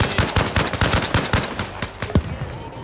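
Rapid bursts of automatic gunfire in the Arma Reforger video game, set in Helmand Province. Loud, close shots come in quick succession and taper off toward the end.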